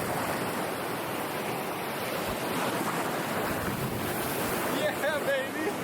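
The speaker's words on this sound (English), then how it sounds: "super windy as you can tell" Strong wind roars across the microphone on a fishing boat at sea off Port St. Joe as a storm moves in, a steady, loud rush over washing waves, with a voice briefly heard near the end.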